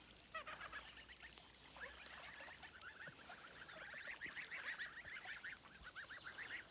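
A flock of geese honks on the water at a village pond, with many overlapping nasal calls that are steady, faint and somewhat distant and grow busier toward the end, with no talk.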